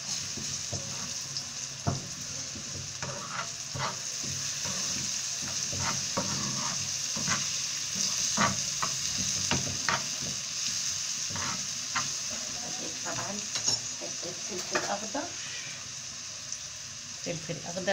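Chopped onion fries in a pan with cumin and chili as a utensil scrapes and stirs through it, giving a low sizzle broken by repeated clacks and scrapes, with occasional background noise.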